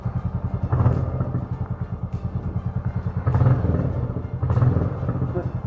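A motorcycle engine with an aftermarket silencer exhaust idles and revs close by, a throbbing low rumble with pulsing rises in pitch, under voices talking.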